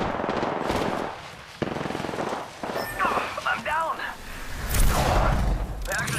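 Apex Legends gameplay with bursts of automatic gunfire, loud and close, mixed with running footsteps and game sound effects. Voices speak throughout.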